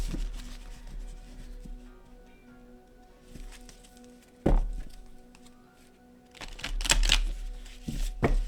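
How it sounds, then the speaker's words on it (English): Heart-shaped tarot cards being shuffled by hand, soft riffles and taps in short bursts with pauses between, a sharper thunk midway and a louder flurry near the end. "These aren't the easiest to shuffle since they're shaped in heart."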